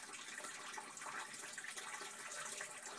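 Meltwater from spring thaw pours into a basement sump pit in clay ground with a high water table, a faint, continuous trickling rush that carries on alone.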